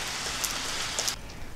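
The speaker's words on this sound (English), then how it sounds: "So the rain just doesn't want to quit out here, so I'm putting it together for you guys in the rain." Steady rain falls outdoors in a broad, even hiss, close and constant, with a few brief sharper ticks near the middle before the sound thins slightly at the end.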